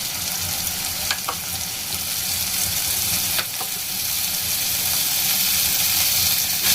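Vegetables with chopped green chillies and chilli sauce frying for veg manchurian, a loud continuous hissing sizzle filling the whole stretch, with a few faint scrapes of a spatula in the pan.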